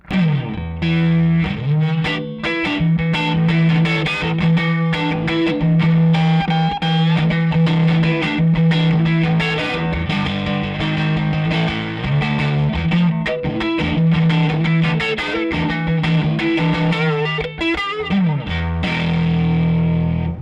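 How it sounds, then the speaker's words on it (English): Electric guitar played through a gritty, breaking-up Fender amp, with strummed chords and single notes ringing with mild crunch throughout. "it gets that nice Fender breakup"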